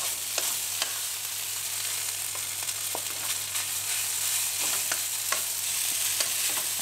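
Rice stir-fried with Thai roasted chili paste, chicken and salted egg in a pan: a steady sizzle with repeated sharp scrapes and clicks of the spatula at an irregular rhythm, close and fairly quiet, no talking.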